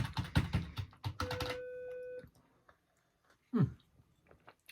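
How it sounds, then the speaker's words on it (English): Clattering keys on a computer keyboard in an office at a primary school, a quick burst of taps followed by a steady tone, scattered faint clicks, then one louder knock, heard close. "Do some more typing."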